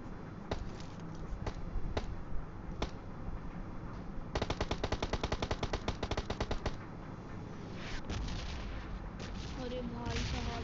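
PUBG gunfire on the Livik map, fairly faint, with single shots early, then a fast automatic burst and more scattered shots later.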